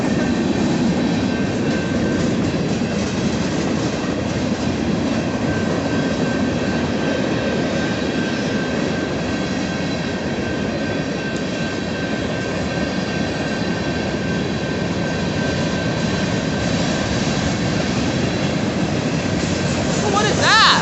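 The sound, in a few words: BNSF northbound freight train passing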